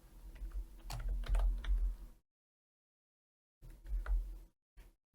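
Computer keyboard keys are pressed for shortcut commands in Blender, a quick cluster of clicky taps, then a pause of silence and a second short burst of presses, close and clear with no talking.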